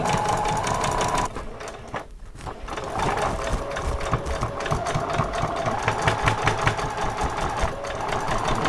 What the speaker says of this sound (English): Don't worry about that noise, that's just my machine telling me that I've got to cut the threads